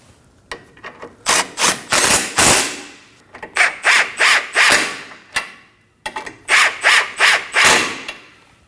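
Ball joint bolts are snugged on the front suspension of a 2016-2020 Kia Optima. Repeated loud ratcheting bursts come up close in three quick groups, with short gaps between them.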